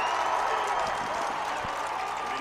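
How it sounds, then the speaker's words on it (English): Crowd at a high school state championship football game between Cornwall and Carthage, cheering and clapping in a steady, broad roar from the stands, with a commentator's voice over it. "Both sides cheering the effort"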